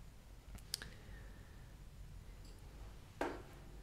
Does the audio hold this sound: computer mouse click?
yes